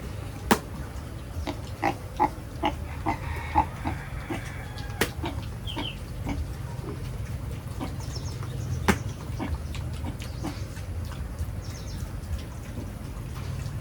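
Pigs and chickens on a small farm under a guava tree, with scattered clucks and grunts and sharp pecking or crunching sounds over a low steady background, fairly quiet and with no talking.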